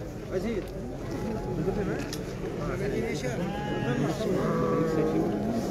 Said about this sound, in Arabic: هذا خروف سداسي هذا